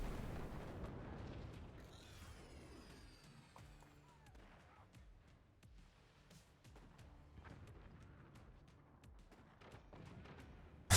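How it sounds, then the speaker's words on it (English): A sniper weapon in the artillery strategy game Forts fires repeatedly, faint distant cracks and booms scattered through a busy battle soundscape of impacts and explosions. "That sniper just keeps firing at the same place and removing the same gunner."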